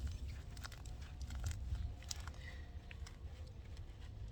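Soft, close crackling and crunching as the dry roots and soil of a new potted plant are squeezed and broken apart during repotting, in faint irregular bursts.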